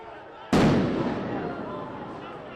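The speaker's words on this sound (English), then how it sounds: "That firework, that explosion goes off" A firework explodes at a street protest in Seattle, one sudden loud boom followed by a long rumbling, crackling decay that fades slowly over the following seconds.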